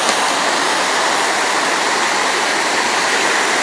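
Loud, continuous roar of rushing river water, steady and close, filling the whole clip with no voices.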